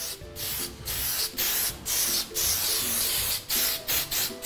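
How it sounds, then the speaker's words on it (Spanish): Moth repellent spray hisses onto a taxidermy trophy during restoration, in loud, close bursts of about half a second each, separated by short pauses, with no speech. "con un spray antipolilla, le vamos a darle todo entero."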